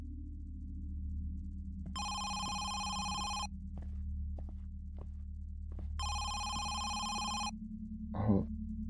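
Telephone bell ringing in the Home Sweet Home video game on PS5, two separate bursts of about a second and a half each over a steady low eerie hum, fairly loud and clear.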